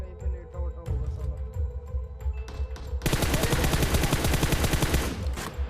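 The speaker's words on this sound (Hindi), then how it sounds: "उसने फिर से सिंगल पे गोलियां चलाई" An AKM in PUBG Mobile fires a few separate single shots, then breaks into a loud, fast, sustained stream of gunfire that continues close and dense to the end, with no talking.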